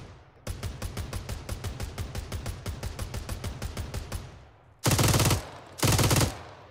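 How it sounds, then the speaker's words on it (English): Rapid automatic fire from a large gun in the military game Arma 3, a steady fast train of loud close shots for about four seconds, then two heavier sustained blasts after a short pause. "You got a bigger gun that fires faster."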